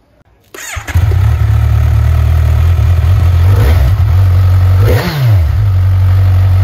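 A 2021 Kawasaki Z1000 R motorcycle with its stock exhaust fires up after a brief quiet moment, then settles into a loud, steady, deep engine rumble close by, with a short throttle blip near the end.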